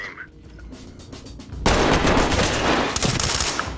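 Gunfire in the tactical shooter game Ready or Not: quieter game ambience gives way to a sudden loud, dense barrage of rapid shots that continues to the end.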